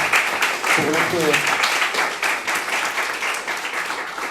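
Church congregation applauding together, a steady wash of clapping with voices mixed in, held at an even level throughout.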